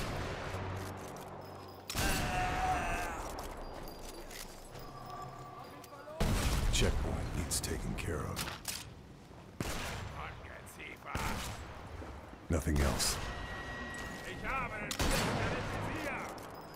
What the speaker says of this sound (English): Whoa, what is shooting me?